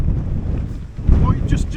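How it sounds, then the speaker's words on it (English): Gusty wind buffets the microphone in a steady low rumble on a Lake District fell, with a brief faint voice in the background. "it's got quite windy but not too bad"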